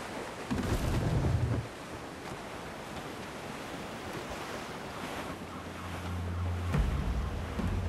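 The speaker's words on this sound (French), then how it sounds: "Le vent a forci." Wind and ocean surf aboard a schooner in Assassin's Creed Black Flag, a steady rushing wash of waves and gusts with rumbling swells at the start and end, no voices.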